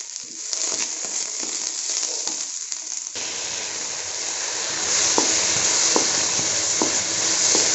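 Onions sizzling in a kadai for restaurant-style kadai paneer, with a hiss that swells louder as tomatoes are tipped in, plus sporadic stirring clinks over a steady close frying crackle and no talking.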